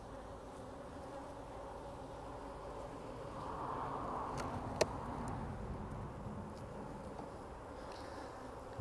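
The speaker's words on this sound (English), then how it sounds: "Bees are still working on it." Honey bees hum around Flow Hive frames, a steady, fairly quiet drone of many wings that swells slightly midway, with one brief nearby tap and no talking.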